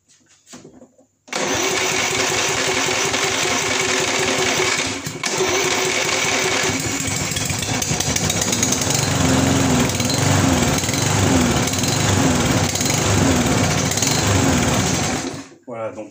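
A Briggs & Stratton lawn mower engine with a carburettor fault, started with petrol fed in directly, roars into a loud, continuous close-up running drone for about fourteen seconds, briefly dipping midway before cutting off.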